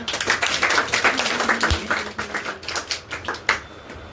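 Guests at a Class 10th topper awards celebration give a round of loud applause, a close, crackling patter of many hands clapping that keeps going steadily with a few sharper individual claps near the end.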